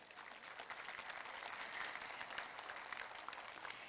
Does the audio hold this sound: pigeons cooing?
no